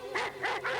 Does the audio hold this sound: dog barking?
yes